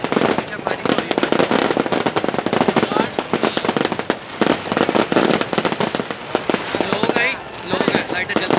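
Fireworks at the Eiffel Tower replica in Bahria Town, Lahore, pop and crackle in fast, loud volleys like rapid gunfire, nearly nonstop with short gaps, while crowd voices carry faintly beneath.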